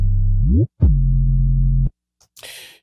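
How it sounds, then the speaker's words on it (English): Deep sustained 808 sub bass notes with pitch slides, one sweeping up then a quick drop, followed by silence and a brief noisy hit. "You can hear the slides here within the 808."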